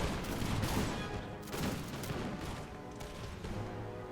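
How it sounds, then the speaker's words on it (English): Cannons fire canister shot in the Napoleonic-era strategy game Imperial Splendour, a dense, continuous crackle of overlapping booms and volleys rolling on without pause, fairly loud throughout. "my cannons were able to fire canister"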